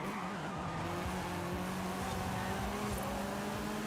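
A car launches in a racing video game, engine held at a steady high drone while tires squeal and skid continuously throughout, loud and unbroken.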